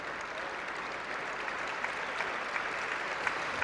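A crowd applauds at a European Judo Open tournament in Glasgow, a steady, dense wash of clapping throughout with a few sharper claps standing out.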